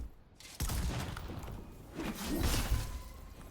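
Cannon fire in the soulslike video game Enotria, a sharp booming blast followed by a second heavy impact, with whooshing debris and crackle trailing after; no talk.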